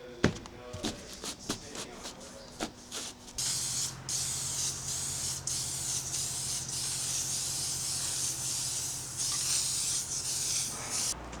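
Aerosol can of high heat paint sprays a car part from an Audi Coupe GT air conditioner upgrade, opening with short separate bursts before settling into one long, steady, close hiss lasting several seconds.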